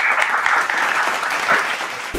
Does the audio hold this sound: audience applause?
yes